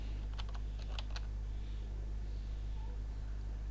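A short burst of keystrokes on a computer keyboard spells out a search term, a quick cluster of light clicks in the first second and a half over a steady low hum. Quiet follows the clicks, and no one speaks.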